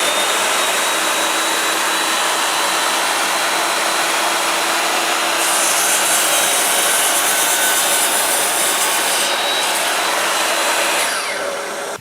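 A Metabo KGT305M mitre saw cuts through a wooden joist about 60 mm thick, a loud, steady whining buzz of blade through timber that runs for the whole twelve seconds and eases slightly near the end.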